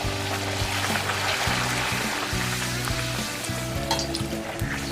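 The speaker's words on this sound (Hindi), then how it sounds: "तो अब हम इसको तेल में ऐसे डाल देंगे।" Puri dough slid into hot oil fries with a steady, close sizzle and bubbling that holds throughout, under a faint pulsing hum.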